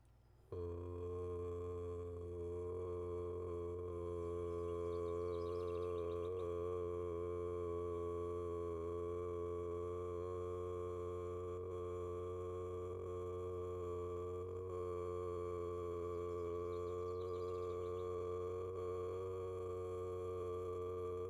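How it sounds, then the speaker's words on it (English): Sustained pure tones ring steadily for a morning ritual, a layered, unwavering hum of several pitches holding for about twenty seconds, soft and alone. "So we'll start with some tones."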